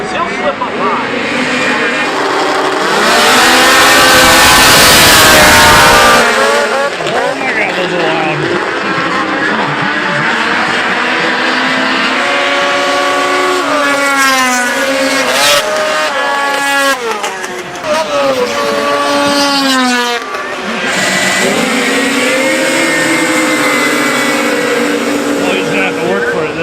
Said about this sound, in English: That sounds like a NASCAR race